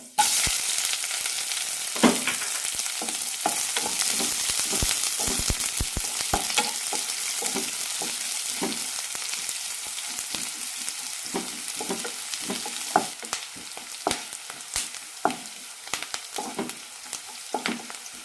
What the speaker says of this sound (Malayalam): ഉലുവ ചോന്ന് കഴിഞ്ഞാൽ സവാള ഇട്ട് കൊടുക്കാം